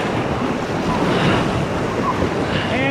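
River rapids on the Wenatchee during class 3 rafting, a continuous loud rushing of churning water and wind noise throughout.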